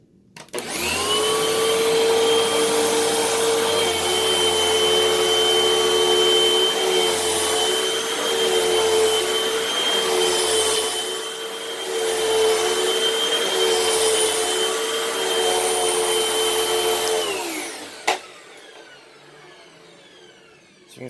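A repaired, reconditioned vacuum cleaner runs on carpet with a steady, loud motor whine for about seventeen seconds, its pitch wavering slightly as it is pushed, then winds down and stops with a click near the end.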